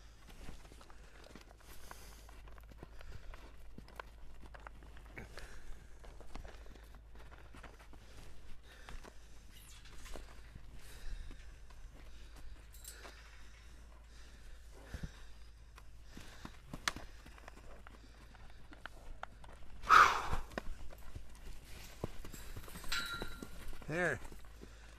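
A horse lopes under saddle at its first saddling, its hoofbeats soft and irregular at a moderate distance, with an occasional snort. People talk quietly now and then over the footfalls.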